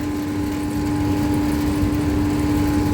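Continuous, steady hum of a single-phase electric motor driving a grain dryer under heavy load, with a constant drone and a strong tonal whine, close and alone.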